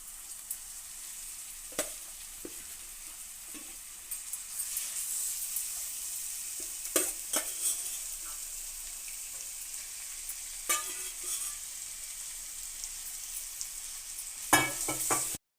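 Sora shark fish pieces frying in a pan with onions: a steady, fairly quiet hiss and sizzle runs throughout, broken by occasional sharper crackles and stirring scrapes, with no voices.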